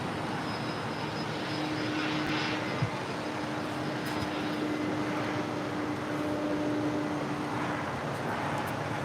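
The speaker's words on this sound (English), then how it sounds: "This is Delta Airlines flight 482 coming in from JFK. This is a 767-300ER." A Delta Airlines Boeing 767-300ER on arrival at LAX after a flight from JFK, its engines a steady broad roar with a faint whine, held at an even level throughout with no voices.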